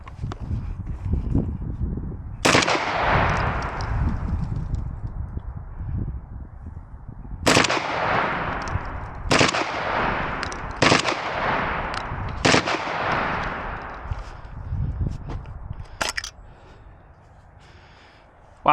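A 12 gauge shotgun fitted with an FRT trigger fires in sharp, loud blasts, a few spaced shots followed by a quicker run of close reports, each ringing out with a long echoing tail outdoors.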